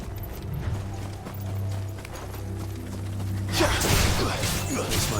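Horse hooves clip-clop in the video game Final Fantasy XVI, a steady rhythmic stepping set against a low droning game score, with a brighter, busier burst of activity toward the end.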